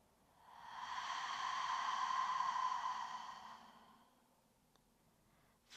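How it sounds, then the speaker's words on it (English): A slow, breathy exhale during yoga breathing, one long airy release swelling and fading over about three seconds, close and soft, against a quiet background. "And exhale."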